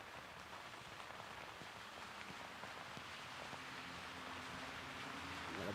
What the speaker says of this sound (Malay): Hujan masih lagi lebat di sekitar kawasan Lita.